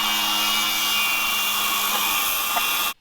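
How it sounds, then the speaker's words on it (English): A power cutting tool whines steadily through metal pieces for a transmission mount, a loud continuous high-pitched grind that cuts off sharply at the end. "So now I'm cutting pieces to make transmission mount."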